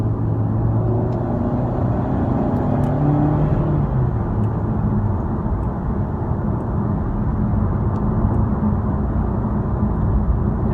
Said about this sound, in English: you see how I'm pressing the gas pedal, and the car is responding a lot quicker than it normally would